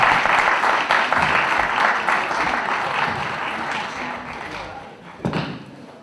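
Audience clapping at a community event in Coventry, moderately loud at first and gradually thinning out, ending with a couple of sharp thumps near the close.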